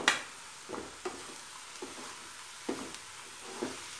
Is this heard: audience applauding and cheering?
no